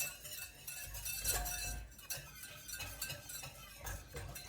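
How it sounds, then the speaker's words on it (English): A whisk works quickly through a thick bun dough paste in a bowl, giving faint, soft, irregular clinks and scrapes against the bowl. "You're just constantly whisking."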